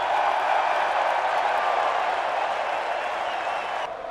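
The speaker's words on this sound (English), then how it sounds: "the biggest cheer of the day when your name was called up there" Crowd at a cricket presentation ceremony cheering for South Africa's captain Temba Bavuma, a dense, loud wash of applause and cheers sustained throughout, no individual voices standing out.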